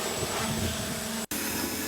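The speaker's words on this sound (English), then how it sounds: "So we'll jet wash that all down." A jet washer blasts sludge from a pool skimmer basket, giving a loud, steady hissing roar that cuts out briefly and then starts again.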